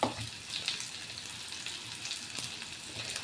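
Chopped onion frying in a pan while tomatoes are washed for a tomato-onion chutney, giving a steady, moderate sizzle with a faint trickle of water and a few light clinks.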